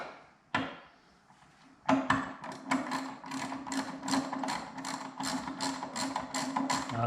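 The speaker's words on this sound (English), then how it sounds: "I'm using a 10mm deep socket." A ratchet with a 10mm deep socket turns a bolt on a Nissan Altima: a single knock, then a quick run of close, rhythmic clicks continuing steadily to the end.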